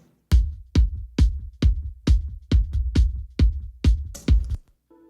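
Kick drum picked up by its own close microphone, playing about ten solid, evenly spaced low thumps at a steady groove, each hit punchy and near with a short decay, no talk.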